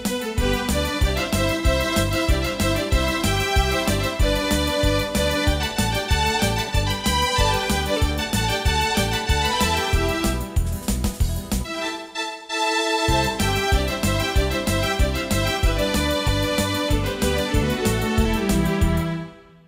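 A Yamaha PSR-340 electronic keyboard plays its chamber-ensemble voice at volume 105 in a steady rhythmic run of notes, with a brief pause midway, and nobody talks.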